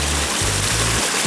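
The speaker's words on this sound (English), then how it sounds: "The stream is behind me." A stream flows steadily behind the listener near a homemade water wheel, a loud, continuous broadband rush of water with no break.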